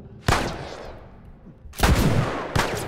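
Gunfire in the video game The Last of Us arrives as three sharp, loud reports, the first followed by a decaying echo and the last two closer together, with no talking.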